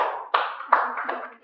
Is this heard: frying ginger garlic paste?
no